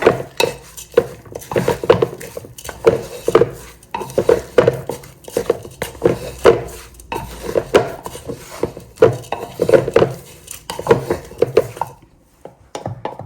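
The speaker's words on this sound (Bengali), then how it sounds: "সব মশলাপাতি দিয়ে লবণ দিয়ে এখন এটাকে মিক্স করে নিই।" Spiced lentils being mixed with salt in a pot, with a spoon scraping and clinking against the metal in a steady, repeated stirring rhythm that is close and clear, before stopping near the end.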